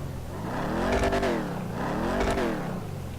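Engine of a Bravado Gauntlet S muscle car in Grand Theft Auto 5, revving in two rising and falling swells with a rich harmonic growl, loud and close, without talk.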